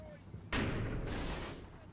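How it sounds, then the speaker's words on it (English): A 2-inch mortar fires in the Combat Mission: Market Garden wargame, a sudden heavy blast after a faint thud, its broad rumble holding and then a second burst rolling on before fading. "2-inch mortars are brilliant."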